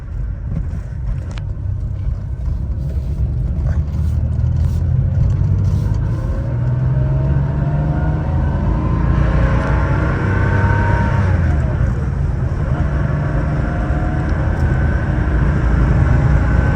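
A 1986 Porsche 911 coupé on a test drive, with a steady engine drone and road rumble sounding loud and continuous inside the car, rising slightly in pitch partway through as it accelerates.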